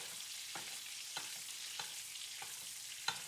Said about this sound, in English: now I'm just going to take that butter and baste that salmon